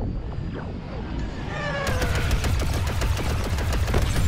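Rapid bursts of blaster gunfire in a Star Wars starfighter video game, dense repeating shots that grow louder and busier partway through, over continuous game sound.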